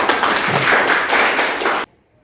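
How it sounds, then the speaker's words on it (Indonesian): A classroom of students claps together during a geography lesson, brisk and fairly loud clapping that stops abruptly near the end, leaving silence. "tepuk tangan untuk Yasni."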